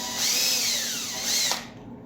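A power drill whirs as it drives a screw into a modular watch display case, spinning up in one long burst, then a second short burst before stopping abruptly, loud and close.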